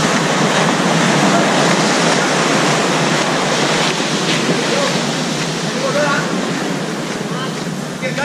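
Loud, steady rush of ocean waves and surf in Krabi, Thailand fills the whole stretch, a dense roar that eases slightly toward the end.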